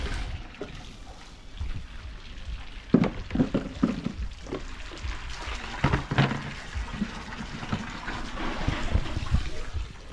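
Water pouring from a waterfall feature into a backyard swimming pool, a continuous splashing rush with bursts of heavier splashes and trickles, close by.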